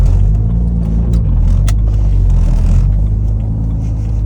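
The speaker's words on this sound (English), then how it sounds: "Sounding good, breaking in the motor." A rebuilt BMW N54 engine in an M3 clone, being broken in, sets up a loud, close, low rumbling drone that stays heavy and steady throughout, with brief higher clicks above it.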